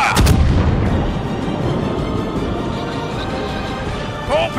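Naval guns fire in a warship video game, a loud booming salvo at the start followed by a rumbling roll of gunfire and explosions that continues at a steady level, with no talk.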